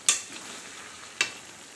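Pepper chicken sautéing in a pan, with two crisp spoon clinks against the pan about a second apart over a soft, low sizzle.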